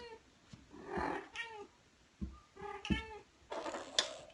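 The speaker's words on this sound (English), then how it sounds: "The kittens are growing up." Kittens meowing indoors, several short separate mews close by, some rising and some thin and high, with quiet gaps between them.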